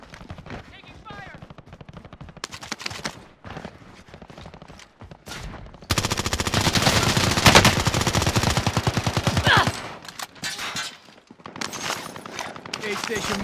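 Rapid automatic gunfire crackles in a Rebirth Island match, starting with scattered shots then erupting into a long, loud continuous burst before breaking into shorter volleys, with faint in-game callouts.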